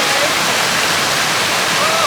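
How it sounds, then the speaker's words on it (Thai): A forest stream flows right beside a mountain restaurant, a loud, steady, close rushing of water that fills the whole moment without a break. "บรรยากาศดี มากเลยเจ้านี่ติดกับลำธารแบบนี้เลย"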